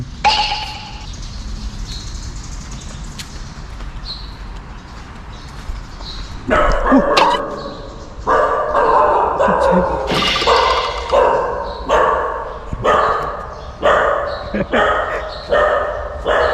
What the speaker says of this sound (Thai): เมื่อกี้โดนมาเห่ามาเลยต้องรีบออกมาก่อนครับ